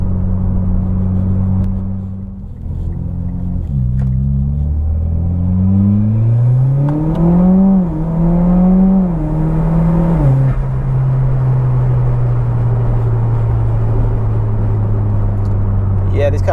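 Mitsubishi Evo X MR with a built SST gearbox and 10-plate clutches accelerating hard at full throttle, its engine note climbing through several rising sweeps and then settling into a steady drone, heard from inside the car.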